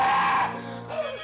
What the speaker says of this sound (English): The scream came at last, for Jafe Morner had seen the devil.